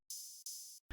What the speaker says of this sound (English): And that one is just called Godzilla Open Hat